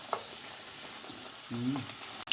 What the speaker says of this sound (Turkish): Kızgın yağda etli pişilerimizi kızartalım.